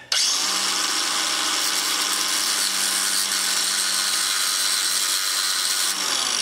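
A power tool whines steadily and loudly while grinding a poly bushing, running continuously for about six seconds before spinning down.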